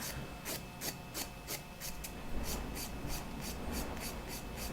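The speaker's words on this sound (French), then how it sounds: "j'enlève vraiment les petits résidus de résine avec ma lime" A coarse-grit nail file rasps against a fingernail to strip leftover resin from a removed resin nail, in quick regular strokes, about a dozen brisk back-and-forth rubs close up, with no talking.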